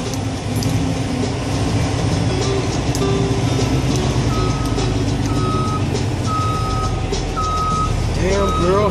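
Truck reversing beeps sound in a busy street scene, a series of evenly spaced, clear tones over loud engine and traffic noise, with people talking nearby.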